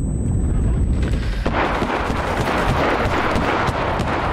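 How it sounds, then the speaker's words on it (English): Gunfire and an explosion in the video game Enlisted, a loud continuous battle roar of shots and blasts with a sharp burst just before the halfway point, dense and close throughout. "the explosion got me, but I was able to get off the second shot"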